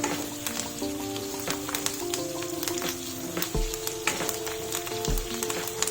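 Pieces of chicken frying in oil crackle and sizzle continuously up close, with a few dull clanks and knocks from the pan breaking into the steady hiss.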